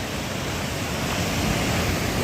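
Creek swollen with snowmelt on the Arizona Trail, water rushing hard in a steady, loud, broadband roar that continues without a break and with no voices.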